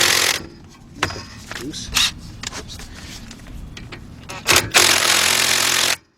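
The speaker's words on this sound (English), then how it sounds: "Now I'm going to switch over to my other cordless gun, and we got one bolt right here." Cordless impact gun loosening a front strut bolt on a 2010 Honda Accord 2.4, heard as several loud bursts of hammering rattle with gaps between, the longest near the end, while someone says a word.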